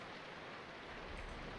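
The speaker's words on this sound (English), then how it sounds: "I should go before it really turns into a downpour." Rain in the video game Robotics;Notes Elite, a steady, even wash of falling rain with no distinct drops or voices.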